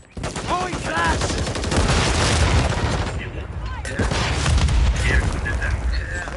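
Dense, loud din of game combat in Modern Warfare 3, continuous booming and rapid gunfire filling several seconds; a flashbang grenade blast is among the explosions, and a voice calls out over the noise.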